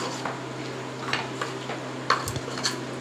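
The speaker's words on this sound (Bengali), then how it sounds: "প্রথমে চামচ দিয়ে জিনিসটাকে মাখিয়ে নিয়ে তারপরে আবার হাত দিয়ে ভালো করে মেখে নিচ্ছে" A spoon stirs a marinade with onion and garlic paste in a bowl for a home picnic meal, producing a series of soft, irregular scraping and clinking taps over a quiet steady hum.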